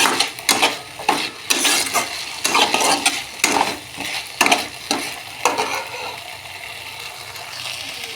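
Drumstick leaves and potatoes are stirred in a frying pan, with repeated scraping strokes of a utensil against the pan in an uneven rhythm over a soft, constant sizzle, fading to steady frying toward the end.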